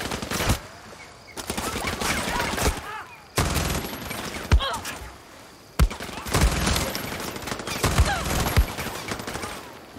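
Enemy gunfire in Far Cry 6, dense bursts of automatic fire and sharp single shots coming in rapid clusters with brief gaps, loud and close, with faint voices in between.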